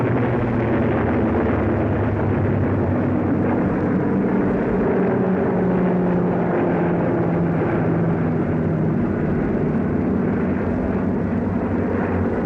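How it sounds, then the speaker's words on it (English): American military transport planes loaded with supplies fly over a wartime North African advance, a loud, steady droning roar of engines that holds unbroken throughout with no voices. "American transport planes loaded with supplies follow us as we advance."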